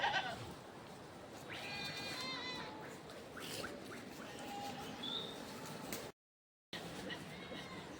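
A flock of sheep belonging to Gaddi shepherds in the Himalaya bleats outdoors, with several wavering calls overlapping one another above a constant open-air hiss.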